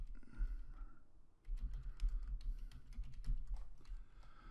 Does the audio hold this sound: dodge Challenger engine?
no